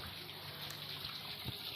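Water running from a pipe tap into a home garden, a steady soft hiss and trickle throughout, fairly faint and continuous, with a brief splashy burst near the end.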